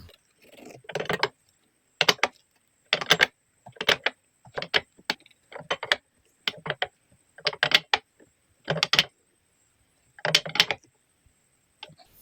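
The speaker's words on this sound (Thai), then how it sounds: "ต่อไปก็มาขันน็อตตัวเล็กลงมานะครับ ผมจะใช้หัวทางด้านเล็กขัน" A small nut is tightened with the small end of a double-ended multi-purpose wrench, giving about a dozen short metallic clicking bursts in an irregular rhythm, close and moderately loud, with silence between them.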